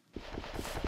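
Horse hooves clip-clop in the Minecraft video game, four evenly spaced close steps in a quick walking rhythm, heard alone.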